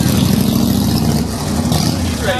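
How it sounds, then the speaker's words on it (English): A loud motorcycle engine roars close by with a steady, rough low rumble that holds its level throughout. "Loud motorcycle."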